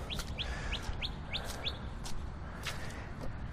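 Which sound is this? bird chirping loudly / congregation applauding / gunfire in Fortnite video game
bird chirping loudly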